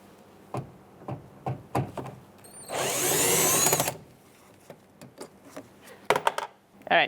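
A screw is backed out of a Ford E-350 door with a Phillips screwdriver: scattered clicks and knocks around a one-second whirring burst of a power driver, close and moderately loud.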